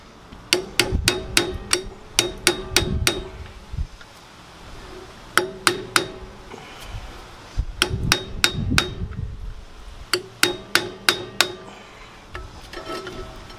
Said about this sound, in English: I'm using a tiny pry bar and a hammer.